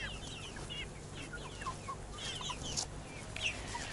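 A small backyard flock of hens with a few roosters clucks softly at a distance, scattered calls rising over a steady low outdoor hum.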